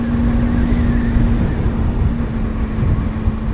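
Steady low engine drone of a Honda Hornet lightweight motorcycle while riding, loud and continuous with a constant hum and rumbling wind noise, no talking.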